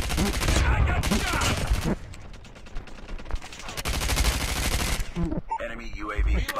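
Gunfire in a Call of Duty Mobile ranked match, loud bursts of rapid automatic shots separated by brief lulls, with game sounds and talk mixed in.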